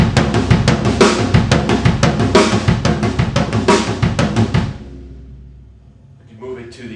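Drum kit in a linear 5-3 pattern with the right hand off the hi-hat onto the toms, a brisk run of close tom strokes that stops abruptly, followed by a brief voice.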